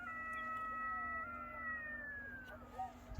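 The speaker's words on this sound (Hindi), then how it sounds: "बीच में गिद्दड़, कुत्तों की आवाज़ें और बेशुमार कुत्ते।" Several drawn-out howls rise and glide downward together at night near a graveyard, thin and wavering over a low hum, from jackals and dogs in the distance.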